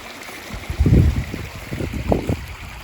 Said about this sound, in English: Yep, the trench is working. Diverting the water away from the washed out garden.